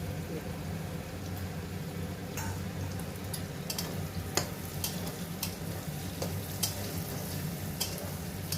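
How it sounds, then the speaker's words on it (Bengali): Onion and green chillies fry in a pan for an egg and prawn fried rice, giving a steady, low sizzle throughout with a few light clicks and ticks of stirring on top. "পেঁয়াজটা ভাজা ভাজা হয়ে গেছে।"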